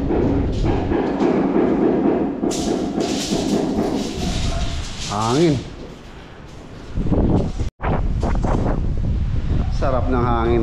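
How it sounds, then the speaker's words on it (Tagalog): Outdoors at a house construction site where UPVC windows and doors are being installed, wind buffets the microphone in long, rough gusts, with people talking through much of it and a brief dropout near the end. "sarap ng hangin, no?"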